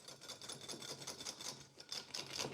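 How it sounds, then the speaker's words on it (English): Egg and chocolate mug cake batter is whisked in a mug with a quick, rhythmic scraping and tapping, faint and close. "Just whisk all that together."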